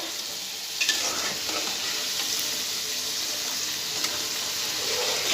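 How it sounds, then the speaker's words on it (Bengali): Fish curry with potatoes simmers and sizzles in a pan while broth and water are poured in, giving a steady frying hiss with stirring scrapes and a few clinks throughout, no voices. "আমি এখন ঝোল দিয়ে দিচ্ছি আর একটু পানি লাগবে"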